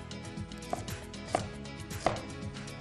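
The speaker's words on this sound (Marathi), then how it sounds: "बारीक चिरून घ्यायचं आपल्याला." Ginger chopped finely on a board gives quick, close knife taps in a steady rhythm, with a few sharper knocks standing out, and no talking.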